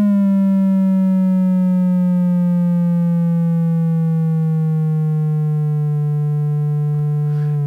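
A steady synthesizer tone with rich harmonics, shaped by a trapezoid envelope generator, holds as a loud sustained note that slowly sinks in pitch over several seconds, with a faint click near the end.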